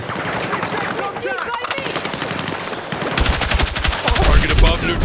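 Heavy automatic gunfire from the Battlefield 6 video game, rapid machine-gun bursts rattling continuously throughout, growing louder and denser in the last couple of seconds with faint voice fragments buried underneath.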